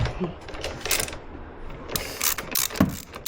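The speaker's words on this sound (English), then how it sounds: "The 1/2 inch socket is to remove your factory mirrors, which we're going to do." Half-inch socket ratchet loosening the factory mirrors on a Harley-Davidson touring motorcycle, with scattered close metallic clicks and rattles against faint background noise.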